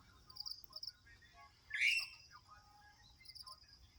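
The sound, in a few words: birds chirping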